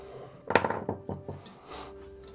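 Carving tool scraping and cleaning out the corners of a carved wooden column, a quick run of several short close scrapes and taps followed by a softer rubbing stroke.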